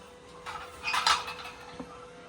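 Metal idli plates clatter as they are greased with oil, with a short burst of clanking metal near the middle and a quieter knock afterward in an otherwise calm kitchen.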